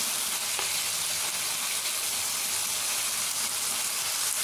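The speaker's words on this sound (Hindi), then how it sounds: "थोड़ा सा इसे फ्राई कर लूँगी ताकि इसमें थोड़ा पानी आ जाता है सब्ज़ी में" Vegetables fry in a pan during home lunch cooking, giving a soft, steady sizzle with faint crackles and stirring, with no one speaking.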